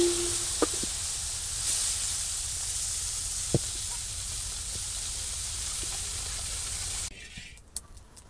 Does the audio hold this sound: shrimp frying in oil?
yes